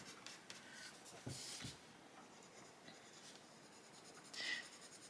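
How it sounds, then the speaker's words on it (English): Colored pencils rub softly across colouring book paper in quiet, close, scratchy strokes, with a couple of brief louder scrapes and no talking. "I think these pencils are going down nicely on this paper"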